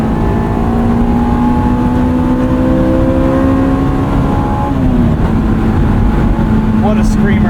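A 2001 Honda S2000 on X-Ice snow tires holds a loud, steady engine drone from inside the cabin, its pitch climbing slowly and then dropping at a gear change before settling into a sustained hum.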